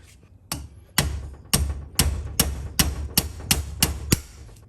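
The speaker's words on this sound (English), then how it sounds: "Now we're going to reinstall the roll pin for the 5th gear fork." Roll pin for a 5th gear fork being driven into an R-series transmission with about ten sharp metallic hammer blows, steady and evenly spaced, close and loud.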